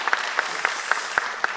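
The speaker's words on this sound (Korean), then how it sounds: "다시 한번 큰 박수 부탁드립니다" Sparse, evenly spaced hand claps, about six sharp beats in a steady rhythm, ring out faintly at a church service as the audience is asked for another round of applause.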